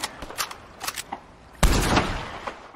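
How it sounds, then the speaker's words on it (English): Carbine Repeater rifle fire in Red Dead Redemption 2: a few scattered sharp shots, then one loud close blast with a lingering rumbling tail. "the carbine repeater, is a reliable repeating rifle with a solid firing rate and quick reload speed"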